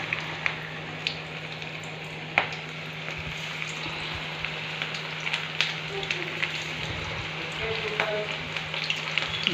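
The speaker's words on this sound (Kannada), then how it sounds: "ಈಗ ಉಳ್ಳಾಗಡ್ಡಿ ಬಜ್ಜಿ ಈಗ ಎಣ್ಣೆ ಬಿಡ್ತೇನೆ ಬರ್ರಿ" Onion bajji frying in hot oil, a steady close crackling sizzle with a few sharper pops and light stirring clicks throughout, alongside a low constant hum.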